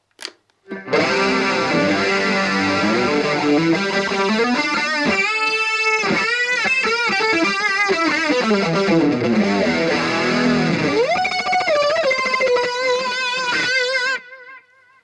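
Electric guitar chords through a Roland Cube 80 modelling amp ring out with swirling chorus and gritty distortion, loud and sustained, with shifting notes for several seconds before cutting off.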